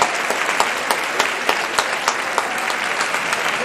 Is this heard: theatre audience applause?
yes